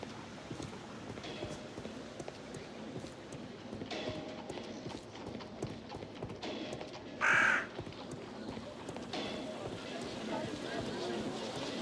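Horse hooves clip-clopping on a street in the Sherlock Holmes: The Devil's Daughter video game, a steady soft rhythm under ambient city noise and crow caws, with a brief louder chime midway.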